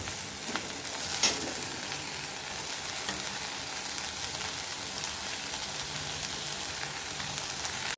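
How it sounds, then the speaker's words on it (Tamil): Mint leaves sauté in a pan for mint chutney, producing a soft, steady sizzle with light stirring and scraping sounds, moderately close and without talk. "புதினா அந்த நல்லா வதங்கணுங்க"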